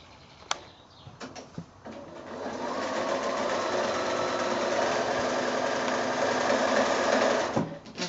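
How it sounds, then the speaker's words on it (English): A sewing machine stitches across the ends of a small quilted drawstring bag made from 6-inch fabric squares: a few clicks and handling taps, then a steady, close, rapid mechanical whir for several seconds before stopping. "So again, back to the machine and stitch across these"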